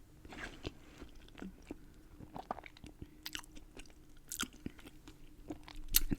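Close, quiet mouth sounds of someone eating Olive Garden fettuccine alfredo: soft irregular bites, wet chewing and occasional sharper crunches, alone without talk.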